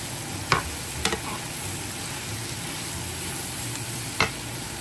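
Plenty of garlic frying in a pan sizzles steadily and quietly, with a few sharp clinks of a utensil stirring against the pan.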